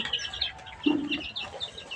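Layer hens on a poultry farm cluck and chirp in a steady scattered chorus, with one lower, louder cluck near the middle of the stretch.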